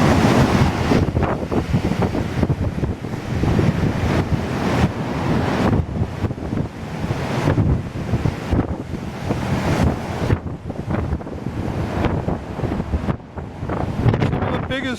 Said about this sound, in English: The ice that's built up on the shore is being pounded.